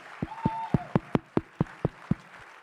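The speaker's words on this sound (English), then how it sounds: "let's stand up and give a round of applause for Josh putting on this event." A conference audience claps in a slow, steady, evenly spaced rhythm, about nine loud distinct claps, with a brief vocal whoop near the start.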